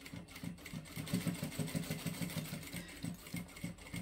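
A sewing machine stitching a fabric tablet handbag closed with a half-inch seam: rapid rhythmic mechanical thumping in a steady run, moderately close, with brief pauses between stitching bursts.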